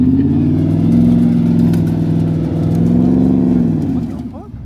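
A truck engine revving hard and steadily as the driver tries to climb a slope in reverse, a loud close droning roar with wheels spinning, while people talk over it.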